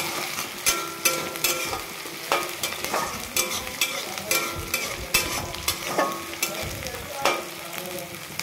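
Crushed green chili and garlic sizzle in a pan while being stirred, a steady frying hiss broken by repeated scraping strokes of the spoon, close and without talk.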